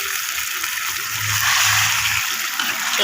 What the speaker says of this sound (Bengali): এখন আমি একটু হালকা জল দিয়ে আবার ভালো করে কষিয়ে নেব।